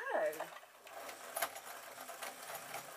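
A sewing machine stitching a ballet shrug upcycled from a tee shirt with a double needle on a normal stitch setting, a steady mechanical whir with faint rattling running continuously at close range after a brief opening sound.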